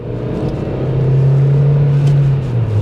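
A 2008 Hyundai Tiburon with a worn clutch slave cylinder, its engine droning loud and close with a steady hum that rises slightly and then drops as it shifts into gear.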